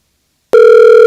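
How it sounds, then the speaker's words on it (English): A single loud electronic telephone voicemail tone starts abruptly after half a second of silence and holds steady as a sustained beep. "Oh, we have a voicemail."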